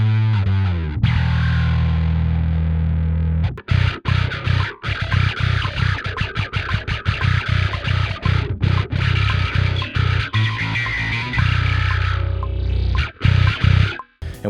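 Heavily distorted synth with a filter feeding into a Parallax distortion effect, a loud, dense buzzing wall broken by rapid stuttering chops and a sustained low bass drone, no voices.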